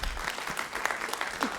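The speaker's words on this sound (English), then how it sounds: "let's give him a quick round of applause." Brief audience applause at a church youth mission trip report, a short steady patter of many hands clapping, fairly close and moderately loud.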